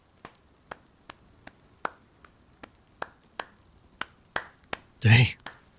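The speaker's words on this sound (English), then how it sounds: "I just like walked outside to chop some wood" Wood is chopped in the survival video game Rust: a regular series of sharp, crisp strikes land about every half second, and a voice speaks briefly near the end.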